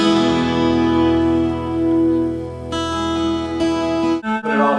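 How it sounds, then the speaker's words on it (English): Isolated 12-string guitar track from a multitrack recording, shimmering sustained chords rich in ringing overtones, a couple of chord changes and a short muted break at the end, close and clear with no talk. "A 12-string guitar"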